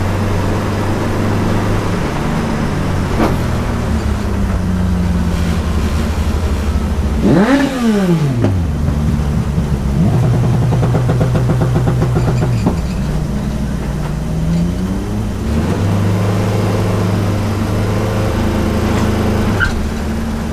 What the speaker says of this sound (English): Trying to race a motorbike next to me